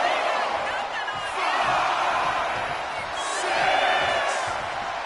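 A wrestling arena crowd cheers and roars steadily as a performer works them up, the dense crowd noise rising and swelling throughout, with a commentator's voice running underneath.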